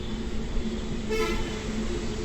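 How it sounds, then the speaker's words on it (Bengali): Steady road traffic rumbles throughout, with a short car horn toot sounding briefly near the middle. "এখন শুধু পাখির ডাক আর গাড়ির শব্দ ছাড়া কিচ্ছু নেই"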